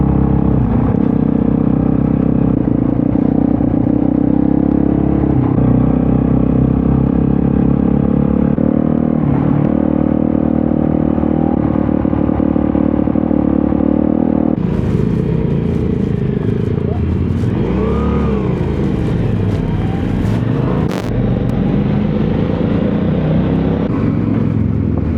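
Kove 450 Rally and 800X Rally motorcycles ride close together in formation. Their engines give a loud, steady rumble that builds and then shifts in pitch partway through, with wind buffeting throughout.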